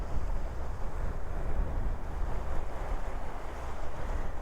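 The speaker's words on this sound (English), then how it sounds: "Look at the edge of the water lapping on the beach." Small waves lap at the edge of a beach, a steady broadband wash mixed with wind rumble on the microphone, continuous and fairly loud with no voices.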